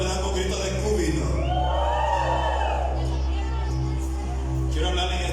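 Church congregation raising a loud shout of joy, a sustained roar of cheering and whooping voices that swells and fills the room for several seconds over a steady low hum.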